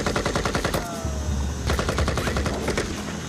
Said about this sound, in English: Gunshots going off outside.